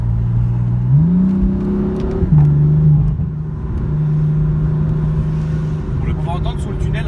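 Biturbo car engine and exhaust revving and downshifting inside a tunnel, a loud close drone rising in pitch, then dropping and holding steady before fading, with voices talking over it.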